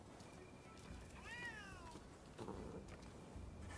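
A cat gives a single short meow in the video game Rise of the Ronin, fairly faint over a quiet, hissy background.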